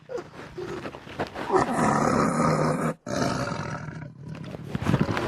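A tiger roars loud and close in one long, sustained growling bellow that cuts out for a moment near the middle, then rumbles on and fades into lower grunts.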